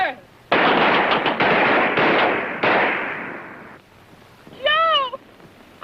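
Rifles fire on a shooting range in rapid bursts, loud and close, with a few separate volleys and a short whistle-like tone near the end.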